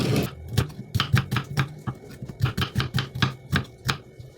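Knife chopping onions, tomatoes and garlic on a cutting board, a quick uneven run of close, crisp taps, with no voices over it.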